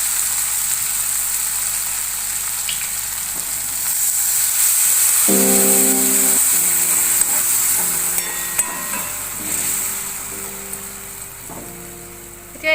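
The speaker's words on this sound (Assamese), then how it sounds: "এতিয়া মই এইখিনি সিজিবলৈ অকণমান পানী দি দিম।" Water poured into a pan of Maggi noodles sets off a rising hiss and bubbling sizzle, with scraping stirs and a few metallic taps over a steady cooking sizzle, close and fairly loud.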